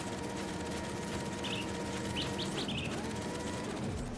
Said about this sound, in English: Now I can really encourage this bird to get going.